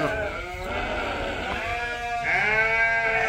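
Several ewes bleat in turn while squabbling at feeding time, with wavering, harmonic cries overlapping at close range, the last call rising louder and higher.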